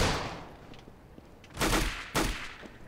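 Gunfire in Counter-Strike: Global Offensive on the Dust 2 map, played on Xbox 360: a few faint scattered shots, then two loud close bursts of rapid automatic fire in quick succession.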